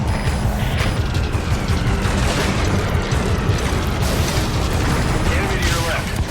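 Requested fire support strike in Metal Gear Solid 5, a dense barrage of booming explosions and mechanical clatter rolling on steadily, with voices talking over the blasts.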